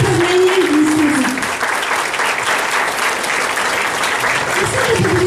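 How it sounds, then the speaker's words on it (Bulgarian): Audience applause fills the room at an anniversary celebration, a dense, steady clapping from a crowd lasting throughout, with a voice faintly heard over the start and end. "моля ви силни аплодисменти за Галя"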